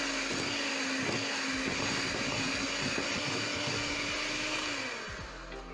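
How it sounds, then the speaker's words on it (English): An electric mixer whirs steadily through red velvet cake batter made with milk, its motor giving a constant high-pitched hum with light rhythmic knocking, then slowing near the end. "Once it is combined, I'm going to use my mixer at this point."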